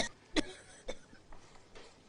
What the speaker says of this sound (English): Your cough isn't getting any better.